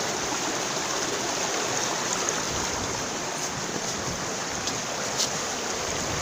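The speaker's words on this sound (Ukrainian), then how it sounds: "А тут така річка бомбезна." A mountain river near the Kamianka waterfall, Skole district, Ukraine, rushes steadily in a continuous broadband hiss, a close, full-sounding stream flowing with no pauses or voices.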